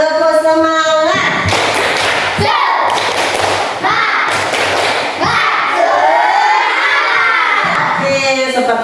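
A classroom of young children loudly shouting a rhythmic 'tepuk semangat' clapping chant at the start of a lesson, with bursts of clapping and thumps in time under their voices.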